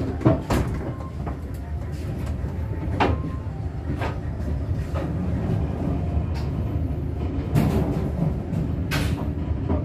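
The Tawang Alun passenger train on the Banyuwangi–Malang line rolls along with a continuous low rumble, punctuated by irregular knocks and clunks from the carriage.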